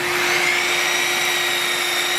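A Bosch CGM12SD dual bevel sliding glide miter saw with a dust collector running on two hoses, a loud steady whining roar with a constant tone, close and unbroken.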